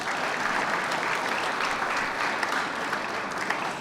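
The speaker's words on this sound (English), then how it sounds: "Can you all give her a round of applause, please?" Crowd at an end-of-summer youth celebration breaks into sustained applause for a deputy mayor, a dense, even roar of clapping hands that holds steady throughout with no voices above it.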